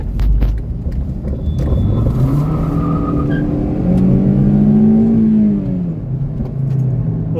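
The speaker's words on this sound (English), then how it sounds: "there was some amount of wheel spin" An 8th-generation Honda Civic with an old-school VTEC engine accelerates hard with some wheel spin, its engine note rising loud and close through the gears before easing off.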